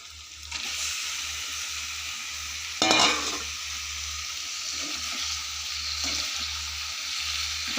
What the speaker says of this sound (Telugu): ఇప్పుడు కలిపి పెట్టిన చికెన్ వేసుకుంటాను.